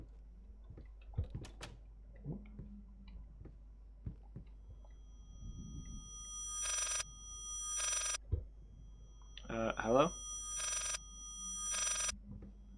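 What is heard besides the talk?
telephone ringing in the video game Layers of Fear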